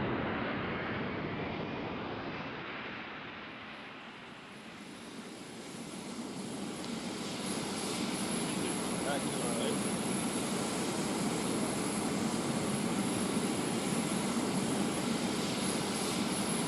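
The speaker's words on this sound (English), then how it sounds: "We have to taxi it over there." A propeller aircraft engine drones steadily as the plane taxis in a military video game, a loud continuous hum that dips briefly then swells and holds strong, with no talk over it.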